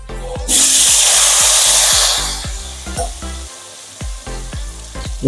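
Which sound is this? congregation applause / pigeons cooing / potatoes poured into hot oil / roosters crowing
potatoes poured into hot oil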